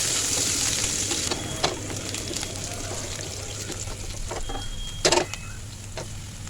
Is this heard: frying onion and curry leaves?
yes